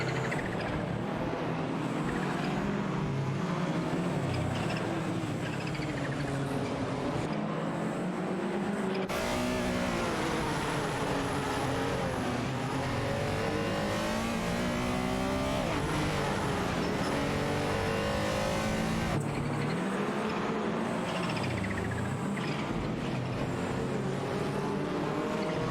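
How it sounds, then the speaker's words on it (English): Race cars roar and whine continuously, engines rising and falling in pitch as they pass, loud and steady throughout. "The race is heating up as the cars battle it out on the track."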